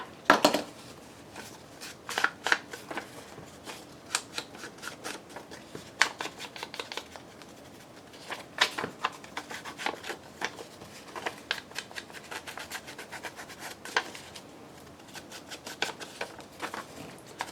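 Paper trims are inked with an ink pad, making a run of soft, irregular dabbing taps and light rubbing scuffs. The sound is quiet and close, with no speech.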